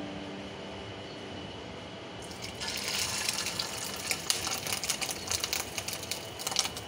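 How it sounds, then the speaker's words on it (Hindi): Fish roe mixture dropped into hot oil in a pan, sizzling and spattering up close, starting as a low hiss and turning into a louder, steady crackling sizzle after a couple of seconds, with no voices. "पहली बार बना रहे हैं, उड़ रहा है बहुत ज़्यादा तेल से।"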